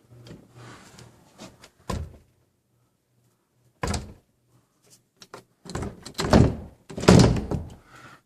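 Interior house door, the master door in a house under inspection, knocked and shut in several dull thunks separated by silence, with a cluster of louder, sharper bangs toward the end.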